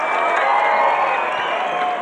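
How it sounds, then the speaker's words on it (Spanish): A crowd at a meeting between the Spanish national team and Pedro Sánchez breaks into brief, dense applause with some cheering, loud and even from start to finish. "eso también merece un aplauso de todos y de todas"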